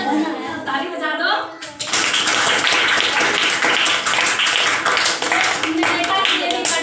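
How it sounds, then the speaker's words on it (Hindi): A class of children claps together in a primary school classroom, a loud, dense patter of many small hands that starts after a teacher's brief spoken line and carries on steadily to the end. "ताली बजा दो"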